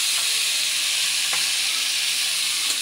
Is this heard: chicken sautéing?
yes